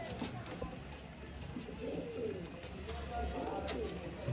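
An old line pigeon coos softly amid a noisy room with people talking in the background.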